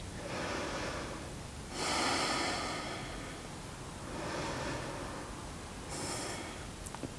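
Deep, audible yoga breaths during a morning flow, alternating inhales and exhales in a slow, steady rhythm, with four broad breathy swells close up and no talking.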